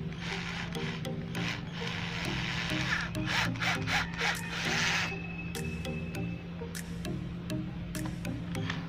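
A cordless drill converted to run on a cord, spinning with a bit fitted, gives a steady close motor whine with grinding and rubbing texture throughout, pitch dipping slightly as it loads.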